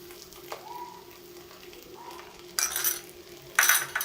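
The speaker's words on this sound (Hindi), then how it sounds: "मज़ीद 15 मिनट हमने इसको अच्छे से भून लिया है कीमे को" Mutton mince sizzling and being stirred in a pan, a low, steady frying hiss broken by two louder bursts of spatula scraping and crackling toward the end.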